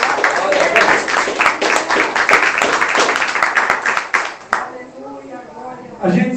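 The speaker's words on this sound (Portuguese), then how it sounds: "Você pode dar um aplauso ao Senhor Jesus?" A church congregation claps and applauds, a dense burst of many hands lasting several seconds before fading, followed by someone speaking.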